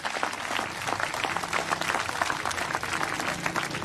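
Outdoor crowd at a 1983 strongman competition in New Zealand applauding steadily, a dense, continuous patter of clapping at moderate distance.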